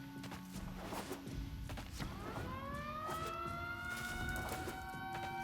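A wailing Silent Hill-style siren in the video game Warframe rises and holds in sweeping tones, steady and fairly loud, over low ambient rumble and scattered thumps.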